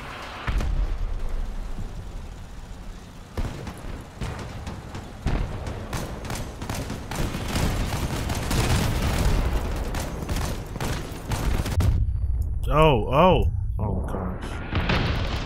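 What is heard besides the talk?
gunfire and cannon shots in Crossout video game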